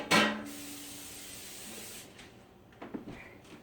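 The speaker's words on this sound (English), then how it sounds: "I will usually spray the pizza pan with a little bit of cooking spray" Cooking spray hisses from an aerosol can onto a pizza pan in one sharp, close burst that tapers into a steady low hiss, followed by a few faint handling clicks.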